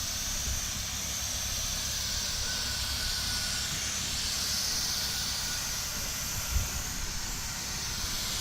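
An acrylic primer spray hisses steadily and continuously onto a 1959 Ford F-100 truck body, a broad close-up rush with faint low rumble underneath and one brief bump.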